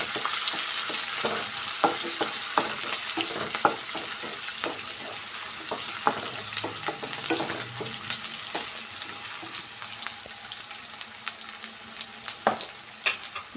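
Shavige bath ingredients fry in a pan with a loud, steady close sizzle, dotted throughout by quick light taps and scrapes of stirring, and no one speaking.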